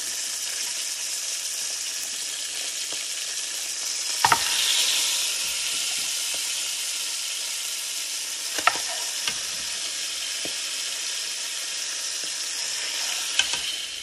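Cow feet meat for a Haitian-style stew sizzling in a pan, a steady close frying hiss with a few sharp clicks and scrapes from stirring, and no talk.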